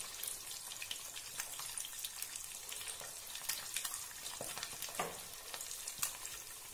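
An egg bullseye fries in an open pan, giving a fairly quiet, continuous sizzle with scattered light pops and spatters throughout.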